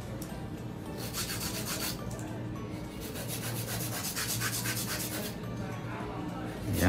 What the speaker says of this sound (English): we got a little bit of hand filing too